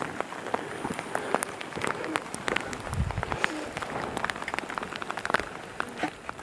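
Rain patters steadily on surfaces at a backpacking campsite in Glacier National Park, a dense close crackle of drops with occasional louder hits, no voices.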